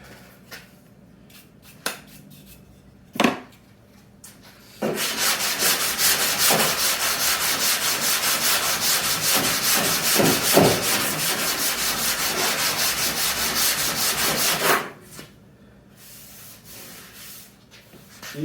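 Body filler on a molded spoiler for a 1974–81 Camaro is hand-sanded in a long, steady rasping stretch of close back-and-forth strokes, preceded and followed by a few isolated knocks and handling noises.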